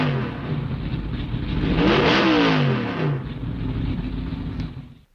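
A Javelin with a special supercharged 390 engine revs hard, the roar climbing and then falling back over a steady loud engine drone that cuts off at the end.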